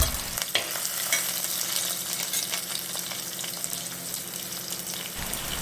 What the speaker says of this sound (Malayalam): എണ്ണ ഒഴിച്ച് ചൂടായി വരുമ്പോൾ നമുക്ക് ഈ ഉള്ളിയും പച്ചമുളകും ഇഞ്ചിയും കൂടി ഇട്ട് ഒന്ന് വഴറ്റിയെടുക്കണം.